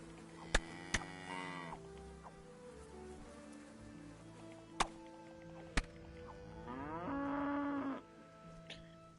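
A cow in the medieval video game Kingdom Come: Deliverance lows twice amid soft outdoor ambience, with sharp clicks and a longer harmonic moo toward the end.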